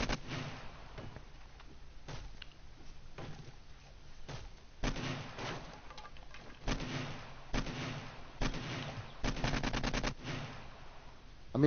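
Rapid bursts of AK-47 fire in the survival game 7 Days to Die, some single shots and some quick strings, each ringing out with a hollow echo over a steady low background.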